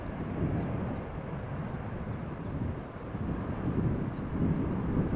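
A steady, broad roar of an airliner's jet engines during departure at Amsterdam Schiphol Airport rumbles on continuously, fairly distant and muffled, with a slight swell toward the end.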